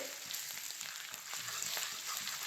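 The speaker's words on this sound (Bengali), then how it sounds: "আদা গ্রেট করে নিয়েছি আমি এটা তিরিশ সেকেন্ড ভেজে নেব" Grated ginger frying in a pan for homemade chili chicken, a soft, steady hiss of oil with light crackling throughout and no voices.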